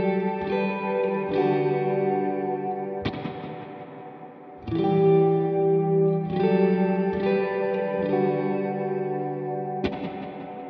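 Guitar chords ring out with lush, layered reverb and shimmering echo from a Source Audio Ventris Dual Reverb pedal combining two reverbs, each strum swelling and trailing off into a long wash before the next one.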